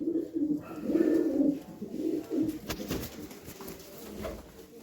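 A blue pigeon with white eyes at a pigeon sale coos in soft, low repeated calls, close by and fairly quiet, with light background noise.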